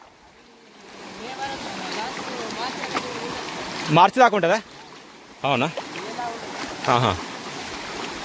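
A village stream flowing steadily in the rainy season, its continuous watery rush running beneath men chatting nearby, with a few louder bumps and splashes along the way.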